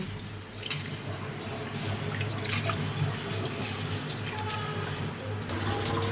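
Rice is tipped into a pot of hot water on a home stove, giving a steady liquid patter and splash with faint kitchen background and no talk.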